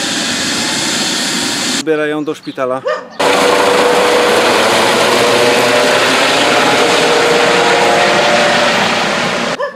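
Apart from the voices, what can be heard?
helicopter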